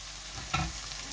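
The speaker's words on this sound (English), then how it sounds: "I'm going to let that slow cook." Lamb chop curry with onions sizzles and fries in a pan, a steady close crackle with one brief stirring scrape midway and no talk.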